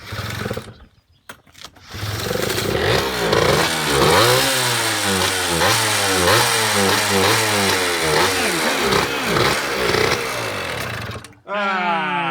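A Yamaha DT125 motorcycle engine is spun up by a power drill on the gearbox, roaring and revving steadily for several seconds before cutting off abruptly, with brief noise beforehand.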